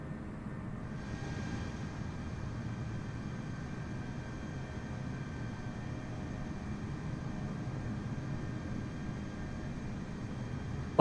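Steady broadband drone of a Douglas DC-3 engine in Microsoft Flight Simulator 2020, a continuous even roar with no breaks, moderately loud and heard alone throughout.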